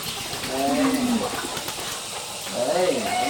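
A wild turkey calls in the forest with two drawn-out, wavering tonal cries, one early and one near the end, over steady outdoor hiss while a person speaks quietly nearby.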